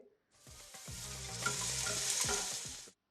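Curry leaves, onion and garlic fry in hot oil for a Sri Lankan prawn curry, giving a loud, steady sizzle with repeated scraping stirs from a spoon in the pan, close up and with no voices.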